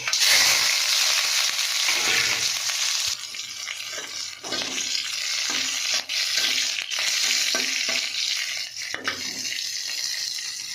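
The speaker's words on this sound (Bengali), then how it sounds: "এখানে আমি গোলমরিচ, কালো জিরে, রসুন আর এই কাঁচা লঙ্কাটা একটু ভেজে নেব।" Black pepper, nigella seeds, garlic and green chilli fry in hot oil with a steady, loud sizzle and crackle, broken by scrapes and clinks of a spoon stirring the pan, with no talking.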